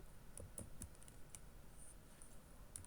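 Keys clatter on a computer keyboard during Java coding, a steady run of soft clicks with a few sharper taps, close and alone with no talking.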